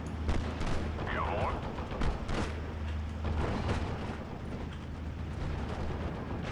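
Panzer I tank gunfire cutting down riflemen in Steel Division: Normandy 44, repeated sharp shots and distant battle noise over a low engine rumble, with someone talking now and then.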